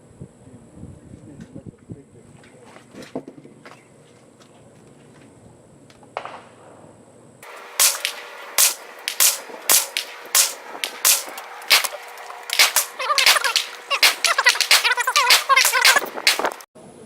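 Center fire gunshots at an outdoor shooting range, a rapid series of sharp, loud cracks in the second half following a quieter stretch of low rumble and faint distant pops.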